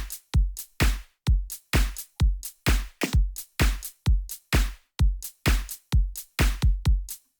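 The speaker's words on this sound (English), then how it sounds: "This is just a simple drum beat," A simple programmed drum beat built in FL Studio, punchy kicks and snappy hits repeating in a steady, tight rhythm, loud and alone with brief silences between hits.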